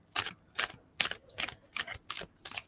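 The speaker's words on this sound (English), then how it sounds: "So giving these a good shuffle." Tarot cards being shuffled in a series of seven crisp, evenly spaced riffling bursts, close and clear with no talking.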